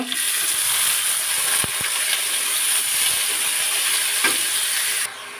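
Water lily stems dropped into hot oil with fried garlic set off a loud, continuous close sizzle and hiss, broken by a few sharp knocks of utensils before the frying sound suddenly drops near the end.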